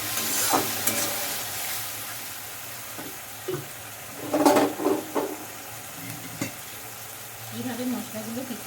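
Spices frying and sizzling in a pan for Bengali ghugni, stirred with a spoon in scattered scraping bursts over a steady low sizzle, close and fairly quiet, with no talk.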